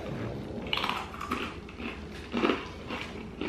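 Hard, dense coconut candies with chocolate drizzle crunch between the teeth in several close, irregular bites and chews, fairly quiet with no talk.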